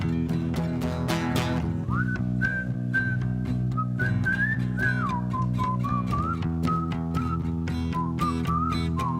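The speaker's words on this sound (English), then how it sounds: "You ready to whistle?" A person at a Sunday church service whistles a melodic tune alone, clear and sustained, with gliding pitch changes over steady background accompaniment.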